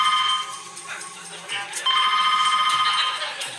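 A landline telephone rings in steady electronic trills, fairly loud and close, with a faint voice underneath.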